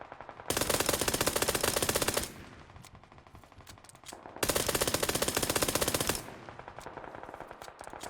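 A Glock pistol fitted with a laser sight firing in PUBG, two long bursts of rapid automatic shots, each about two seconds, loud and close, separated by a quieter gap, no speech.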